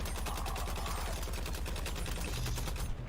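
Rapid automatic fire from a LexCorp gun in the video game Suicide Squad, a steady, fast stream of close, loud shots running the whole time with no voices.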